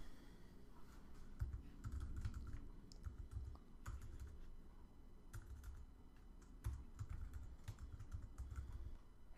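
Typing on a computer keyboard while coding an iPhone app, with steady close, soft key clatter in quick irregular bursts and brief pauses, no speech.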